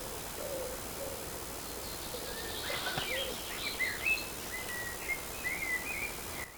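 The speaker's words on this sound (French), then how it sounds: "vous voyez, on entend les oiseaux" Birds call in a garden, with faint high chirps and short whistled notes scattered over steady quiet background noise at a distance.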